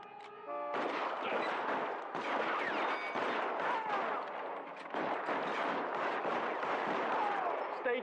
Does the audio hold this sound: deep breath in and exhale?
no